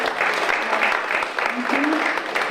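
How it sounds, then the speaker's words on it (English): An audience at an under-25 film event gives a short round of applause, with a steady patter of clapping and a voice briefly heard beneath it. "Just a round of applause for Spy Guy."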